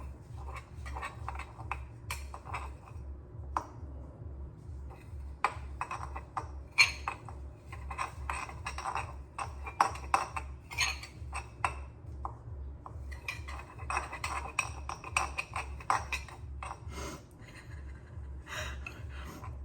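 Spoon or utensil scraping and clinking against a bowl while a cookie concoction is stirred, irregular taps and scrapes over a steady low hum, close and moderately loud.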